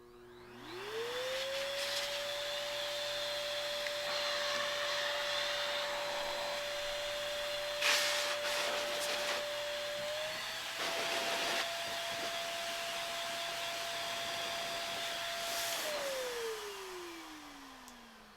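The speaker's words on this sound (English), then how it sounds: "Now is the blower." A dog grooming vacuum's blower spins up with a rising whine, holds a steady tone that steps up slightly mid-run, then winds down, with a few brief clicks and knocks along the way, at moderate volume.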